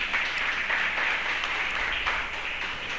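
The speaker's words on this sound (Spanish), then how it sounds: "Que le dé un aplauso a Él en esta hora" Church congregation applauding during a Spanish-language worship service, a steady, dense wash of many hands clapping together, sustained and fairly loud throughout with no talk over it.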